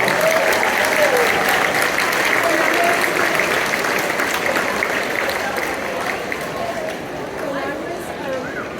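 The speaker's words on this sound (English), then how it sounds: "Please give them one more big round of applause." Sustained applause from a large crowd at a Hawaiian festival performance, steady and loud throughout, with a general murmur of voices blended underneath and tapering slightly toward the end.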